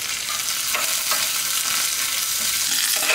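Shallots with whole coriander seeds and a few coriander leaves sauté in a pan for a country chicken semi-gravy, giving a steady, close, continuous sizzle and crackle with occasional stirring scrapes and no talking.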